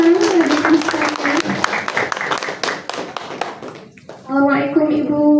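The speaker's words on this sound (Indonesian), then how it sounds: "Boleh tepuk tangannya teman-teman." An audience at an anniversary talk show breaks into a burst of dense clapping that carries on for several seconds, with someone speaking over and after it.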